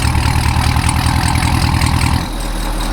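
A modified Corvette ZR1 idles in quiet mode with stock mufflers, a steady deep close-up burble that drops slightly quieter and smoother near the end, with no talking.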